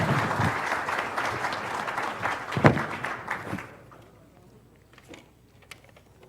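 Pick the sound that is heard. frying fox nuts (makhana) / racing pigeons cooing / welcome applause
welcome applause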